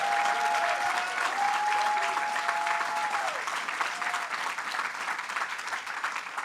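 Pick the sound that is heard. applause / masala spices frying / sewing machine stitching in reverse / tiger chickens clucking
applause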